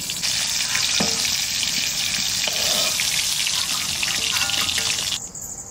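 Potatoes frying in oil in a home kitchen, a dense continuous sizzle with occasional stirring clicks and scrapes, close and loud, cutting off abruptly near the end.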